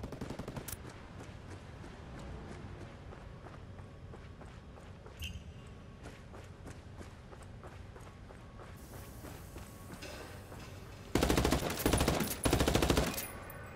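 Gunfire in Ghost Recon Wildlands: soft footsteps and scattered distant shots give way to a loud, close burst of rapid automatic fire near the end.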